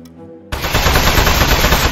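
Rapid automatic gunfire shooting at a metal enemy in the video game Aperture Desk Job, bursting in loudly after a half-second lull and continuing as a dense, close rattle with no speech.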